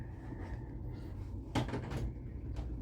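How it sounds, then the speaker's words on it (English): A door inside a home being knocked on or handled, with a few sharp wooden knocks around the middle of the short stretch over steady low room noise. "Somebody's knocking on the door."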